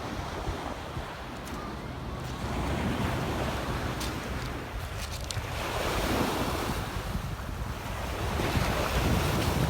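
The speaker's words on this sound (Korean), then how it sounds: "네, 파도 정말 좋습니다" Sea waves roll and break on a pebble beach at Jeongam Beach in Yangyang, Gangwon, in a continuous loud wash of surf with swelling surges and steady wind buffeting the microphone.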